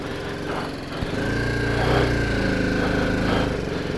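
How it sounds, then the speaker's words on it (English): A BMW 310GS motorcycle's small single-cylinder engine idles nearby with a steady, even tick-over hum that holds unbroken throughout. "When you start it up, it's got a quite a nice sound to it, a nice tick-over sound to it."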